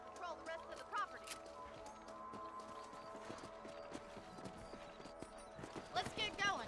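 Horse hooves on a ranch property in Red Dead Redemption, a steady clip-clop gait under a low hum, with a neigh and people talking over it.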